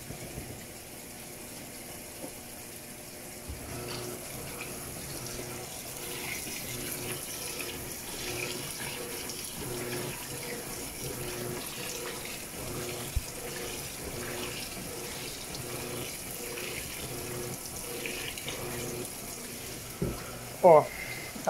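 An Electrolux LEC14 washing machine fills with water on its high level in a heavy-duty cycle, giving a steady rushing flow with faint churning throughout, and a few brief knocks near the end.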